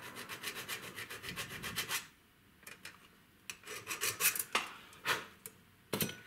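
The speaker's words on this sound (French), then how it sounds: "Et après, tu le termines à la lime comme ça." A hand file rasps across a rigid automotive hose pipe, first in a quick run of even, rhythmic strokes, then in slower, separate, sharper strokes with short pauses between them, close and fairly quiet.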